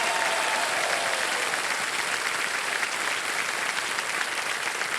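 Steady studio audience applause on the set of Kaun Banega Crorepati, a dense, even wash of many hands clapping, sustained at moderate level throughout with no talk.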